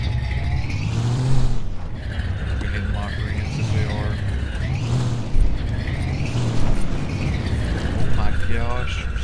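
A junkyard truck with a built V8 drives through mud, its engine roaring steadily and surging as the tires spin, with a low rumble throughout and someone talking over it.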